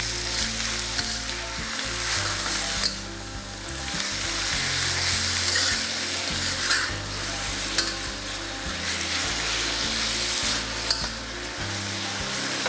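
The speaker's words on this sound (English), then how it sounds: "Fry both sides of the wings till they turn brown." Chicken wings sizzling and frying in a pan over medium-high heat, a steady loud crackle and spatter with occasional stirring scrapes, close and continuous.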